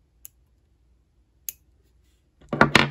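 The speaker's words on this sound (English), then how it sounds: "then I can cut the excess string" Scissors trimming excess string on a handmade beaded flower ring: two faint isolated clicks, then a pair of louder close crisp snips at the end.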